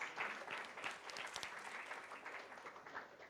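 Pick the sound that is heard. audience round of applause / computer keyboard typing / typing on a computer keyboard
audience round of applause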